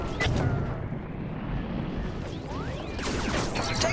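Enemy Imperial weapon fire in the space shooter Galak-Z, repeated booming blasts and zapping laser streaks, loud and dense, swelling again near the end.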